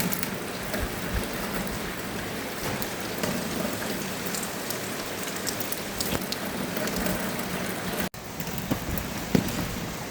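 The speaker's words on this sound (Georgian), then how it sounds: "ახეთ როგორ წვიმს" Rain falling steadily outdoors, a dense even patter of drops on surfaces, close and continuous throughout with a brief knock near the end.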